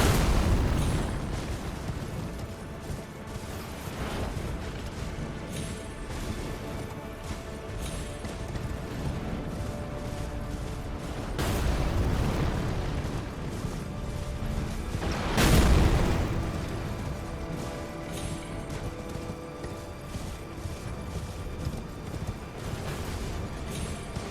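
Giant's shots exploding in Elden Ring, a few heavy booms scattered over a steady low rumble of battle ambience, the strongest blast landing about two-thirds through, no talk.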